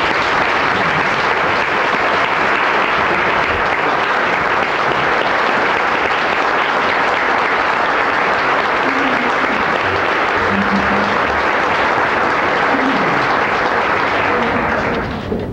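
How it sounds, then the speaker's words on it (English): Sustained, dense applause fills a room at an educators' banquet on teacher appreciation night, a steady wash of many hands clapping together that holds at a constant level throughout before ending abruptly. "Would you all please stand and let's give them a round of applause"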